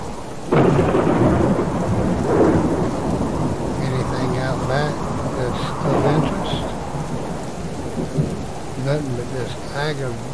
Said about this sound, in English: Aggravating storm.